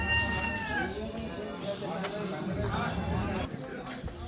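A rooster at a hotel in Kapilvastu, Nepal, gives a brief clucking call near the start amid nearby voices and general outdoor background.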